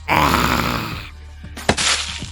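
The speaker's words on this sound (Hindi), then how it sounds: "शायद ये इन्फेक्टेड की आवाज है।" Groaning of infected zombies in a Hindi-dubbed apocalypse comic: a sustained low, strained moan for about a second, then a sharp burst of harsher noise, fairly loud and close, with no clear speech.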